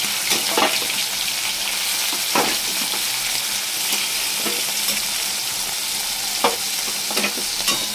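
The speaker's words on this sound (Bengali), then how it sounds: "चिंगड़ी माछगुलो भेजे तुले नेब" Steady sizzling of prawns frying in hot oil, a continuous crackling hiss with occasional sharper pops and stirring clatter, close and fairly loud.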